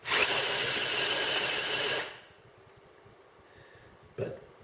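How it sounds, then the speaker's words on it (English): High-pitched whirring gear noise from a Hobbywing Quickrun Fusion 1800kv RC motor spinning freely on a table, loud for about two seconds, then cutting off, followed by a brief thump. "But mainly that noise is more of the gear noise than motor noise."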